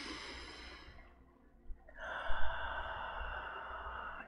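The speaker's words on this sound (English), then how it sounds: "Take a deep breath in" A slow, soft breath in, faint and close, with steady airy noise that fades briefly before a fuller, steadier inhalation, with no voices.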